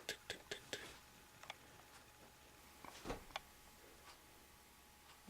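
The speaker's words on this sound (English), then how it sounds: "That ticking sound?" Faint ticking in a quiet house, a few sharp clicks in quick succession at the start, then sparser, softer ticks and a slightly louder knock-like tick later, with faint murmuring in the background.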